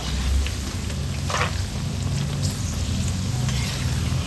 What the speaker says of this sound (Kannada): ಕ್ರಿಸ್ಪಿಯಾಗಿ ಫ್ರೈ ಮಾಡ್ಕೊಳ್ಬೇಕು, ಚೆನ್ನಾಗಾಗುತ್ತೆ